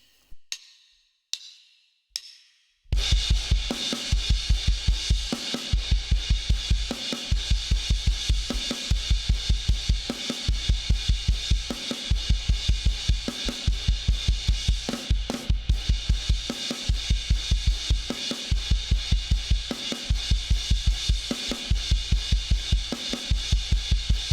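A full drum kit plays the chorus of My Chemical Romance's "The Foundations of Decay", a steady, driving rock groove with punchy kicks and constant crashing cymbals, loud and close, after a few brief opening hits.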